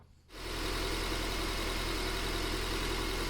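A car engine starts and settles into a steady idle, with a continuous low rumble and faint ticking from the running engine. The sound is close, loud and alone, heard during a fuel injector check.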